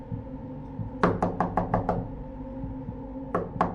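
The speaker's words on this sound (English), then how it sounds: "We both watched as the guy got out, walked to my door, and knocked 3 times." Knocks on a door ring out in a quick burst of six sharp raps, then two more a moment later, loud and close over a low droning background.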